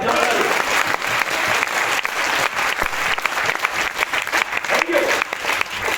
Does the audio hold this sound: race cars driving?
no